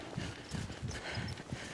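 Horse hooves clip-clopping in a steady, even rhythm during riding training around cones, about five soft thuds over a couple of seconds, close and moderately quiet against background noise.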